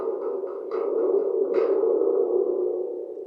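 A spring and membrane toy makes a loud, sustained metallic drone with a boomy, echoing twang, shaken twice by brief hissy bursts, heard alone for a few seconds.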